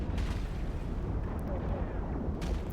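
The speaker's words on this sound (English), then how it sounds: "Turret sounds both from your ship and also impact sounds on the Titan." Turret fire and impacts on a Titan in EVE Online rumble as a dense, continuous barrage of deep booms and bursts, loud and unbroken throughout.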